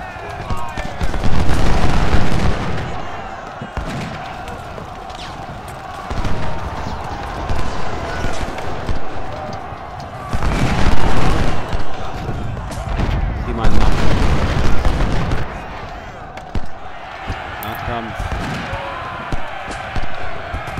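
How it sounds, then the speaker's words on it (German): Cannon fire during a battle in Ultimate General: Civil War: repeated heavy booms and volleys arrive in loud waves over about twenty seconds, mixed with battle noise and someone talking over the top. "Kriegen Kanonenfeuer."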